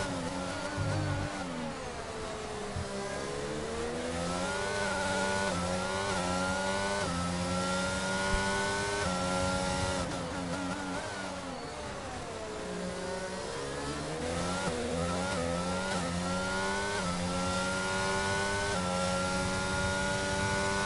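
Race car engines in a virtual Formula racing game at Bahrain, a continuous loud whine climbing and dropping through gear changes, with several cars layered close together and no talk.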